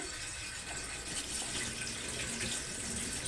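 Tap water runs steadily from a kitchen faucet while rice is washed in a bowl, a continuous close splashing hiss with no talk.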